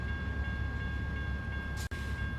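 A long train from a mod in American Truck Simulator rumbles past steadily, a dense low roar with a faint tonal hum, heard close and alone.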